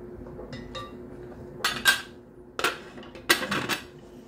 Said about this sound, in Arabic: عاد نشد الزيتون نزيد لها هذاك الزيتون